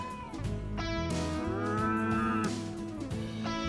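Cows moo in drawn-out, overlapping calls on the Datca Peninsula in Turkey, several animals lowing one after another at moderate distance under a steady outdoor background.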